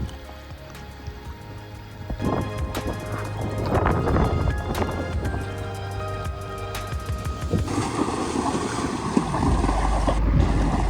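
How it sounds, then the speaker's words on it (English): Gusty wind buffeting outdoors on a windy day near water, a steady rushing roar that builds louder toward the end, with lapping water beneath. "Windy day today."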